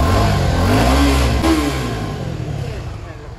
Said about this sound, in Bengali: ইঞ্জিনের একটা গর্জন আছে এটাতে,